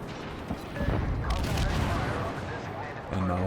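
Destroyer guns fire repeatedly in World of Warships, a Fletcher in a naval battle with a Bismarck nearby, sounding as a dense run of booming salvos throughout, with a rising mechanical hum near the end.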